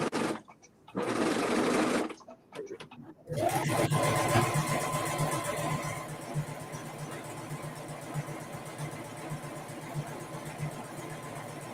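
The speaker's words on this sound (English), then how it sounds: "I'm gonna sew this while I'm waiting on that to cool." A sewing machine stitching fabric for a Made for Mermaids Beau garment, starting with short bursts and pauses, then running steadily and loudly at close range with a buzzing mechanical drone.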